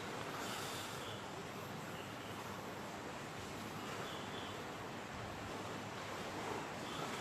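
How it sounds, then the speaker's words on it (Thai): Strong wind roars against the microphone while waves and surf crash on the Satun coast during Storm Pabuk, a dense, continuous wash of noise with no clear breaks and no talk. "ลมแรงมากนะครับ"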